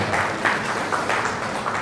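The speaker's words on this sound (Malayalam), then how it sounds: "എല്ലാവർക്കും ഒന്ന് കൈയടിച്ച് അതൊന്ന് സമ്മതിക്കാം" Applause from guests at an engagement ceremony, a steady wash of many hands clapping at moderate loudness with no clear break.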